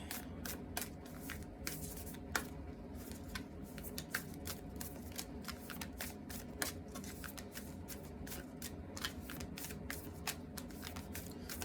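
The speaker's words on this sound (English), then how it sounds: "I don't even know why did I shuffle that again." A steady stretch of tarot card shuffling, with quick riffling flutters and soft slaps of the deck, close up and fairly quiet.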